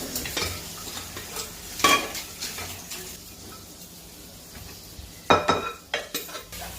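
Mutton pieces go into a simmering curry with hot water and salt, stirred with a spoon against the pot; scraping stir sounds and a couple of sharp metallic clinks stand out over a low bubbling background, no talking.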